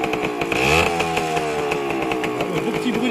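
A Yamaha DT 50 enduro moped engine from the 1980s runs after 15 years of disuse, a close, buzzy two-stroke drone that rises briefly in pitch and then holds steady.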